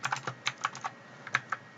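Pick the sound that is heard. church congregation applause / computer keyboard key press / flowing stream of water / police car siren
computer keyboard key press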